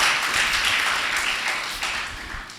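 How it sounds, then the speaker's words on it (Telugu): An audience in a church service on Keerthana TV in Guntur claps loudly together, a dense sustained patter of applause that gradually fades slightly over a few seconds. "గట్టిగా చప్పట్లు కొడతావా?"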